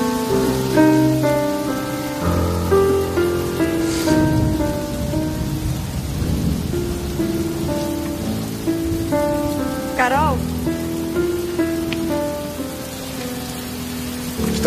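Rain falls steadily as a soft hiss, mixed under prominent sustained music for the whole stretch.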